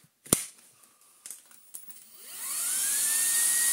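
A Vax Blade 4 cordless vacuum cleaner clicks on after a few handling knocks, its motor whining up to a steady high-pitched run that stays loud and close to the end.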